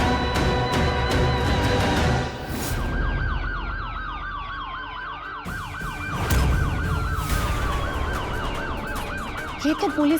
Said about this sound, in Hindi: ये तो पुलिस की सायरन की आवाज है ना?